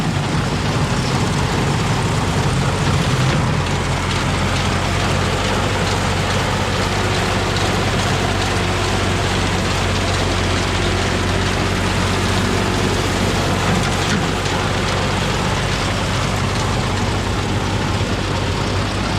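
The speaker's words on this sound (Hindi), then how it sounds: "यहाँ से मशीन कटाई करके ना गड्डियाँ बना रही है, ज़बरदस्त।" A tractor-mounted machine cutting wheat and binding it into bundles in a field in Pakistan, giving a constant heavy engine drone with a low rumble and rattling mechanical noise, steady and close with no speech.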